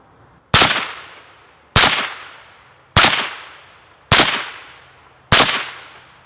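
Five sharp, loud shots from a .223 rifle firing supersonic Lake City reloads through a .30 caliber suppressor outdoors, spaced about a second apart, each with a short decaying tail.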